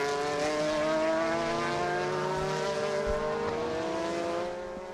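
Super GT race cars roar past at Sepang circuit, a dense layered engine drone with sustained harmonic whine as GT500 and GT300 cars pass, loud and continuous, easing slightly at the end.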